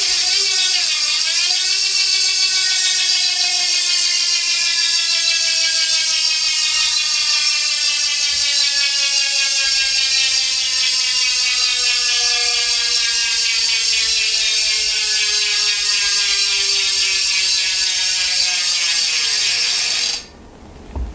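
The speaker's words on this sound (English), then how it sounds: "54 tooth ratchet upgrade in the Roval C38." DT Swiss 350 hub with a 54 tooth ratchet upgrade in a Roval C38 wheel freewheels in a fast, steady buzz of clicks that gradually slows as the wheel spins down, close and loud, stopping abruptly at the end.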